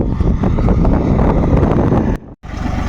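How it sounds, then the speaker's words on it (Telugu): A John Deere tractor's engine rumbles loud and close as it drives down, heavy wind buffeting the microphone, with a brief dropout just before the end. "దిగుతుంది ట్రాక్టర్ దిగుతుందిలే"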